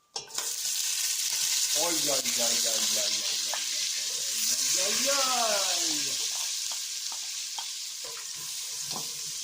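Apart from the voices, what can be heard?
onions added and sautéing with pork in a pan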